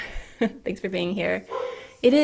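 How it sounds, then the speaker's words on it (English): A dog barks and whimpers in the background, a few short yips and barks mixed in with a person talking closer by. "Sorry if you can hear my dog barking in the background."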